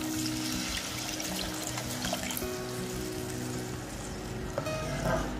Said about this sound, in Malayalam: നമ്മൾ തിളപ്പിച്ച് മാറ്റി വെച്ചിരിക്കുന്ന നെല്ലിക്ക വെള്ളം ഇതിലേക്ക് ചേർത്ത് കൊടുക്കാം